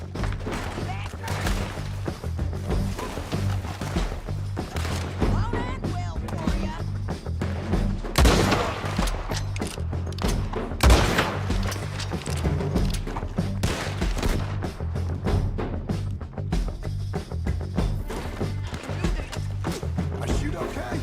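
Gunfire in Red Dead Redemption 2: repeated shots cracking in irregular bursts amid busy game noise, with horse hooves and voices talking throughout.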